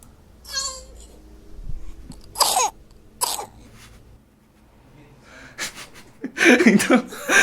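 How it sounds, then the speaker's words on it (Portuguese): A baby's small coughs and throat-clearing noises come in short bursts, mixed with soft babbling and breaths, close by in a quiet room. "o bebê tossindo"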